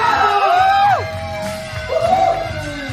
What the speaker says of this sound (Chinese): 掌声尖叫